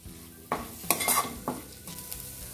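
Spices for a whole masoor curry sautéing in a pan with homemade black chilli powder, loud close stirring scrapes and metal clatter over a bubbling sizzle.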